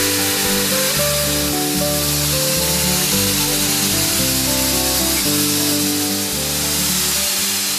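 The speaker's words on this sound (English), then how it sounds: "using a garnet abrasive to sandblast off all of that corrosion and take it back down to white metal" Sandblasting with garnet abrasive to strip corrosion from metal down to white metal, a loud steady hissing blast with a droning compressor or engine hum underneath, continuous throughout.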